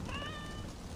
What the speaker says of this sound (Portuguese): Vou fazer carinho nos gatos?